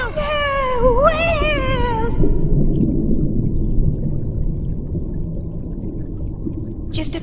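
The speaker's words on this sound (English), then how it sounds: "Oh my god, it's a whale!" A cartoon whale lets out a long, wavering, rising-and-falling cry for about two seconds, loud and close, followed by low rumbling ambience.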